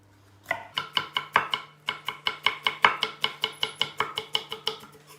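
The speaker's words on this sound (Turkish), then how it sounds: "Az bir biber kapya doğrayın." Rapid, even knife chops through a red pepper on a cutting board, about twenty crisp strikes in two quick runs separated by a short pause, close and clear.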